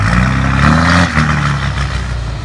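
A snow-towing truck's engine, fitted with an MBRP muffler, revs hard and close, its deep rumble rising and falling steadily through the whole stretch on a snowy outing.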